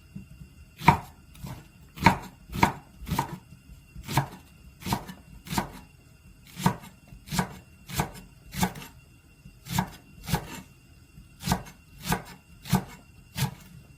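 A knife chops green onion on a cutting board for tteokbokki, giving crisp, evenly spaced thuds in a steady, unhurried rhythm, close and clear with no talking.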